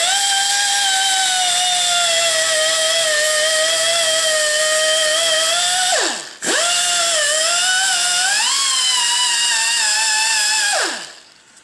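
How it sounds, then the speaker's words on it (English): A die grinder fitted with a fine sanding disc works a prototype part, its loud, steady high-pitched whine dipping as the disc loads against the surface, cutting out briefly near six seconds, spinning back up, then winding down at the end. "die grinder here, really fine sanding disc"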